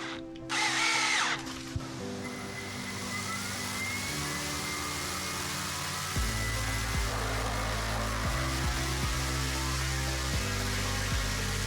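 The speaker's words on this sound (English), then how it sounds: "In my stand, I forgot to add holes into the design, so I have to drill them." A power drill bores holes into a 3D printed thrust stand, its close, steady whine stepping up and down in pitch as the speed changes, with brief pauses between bursts.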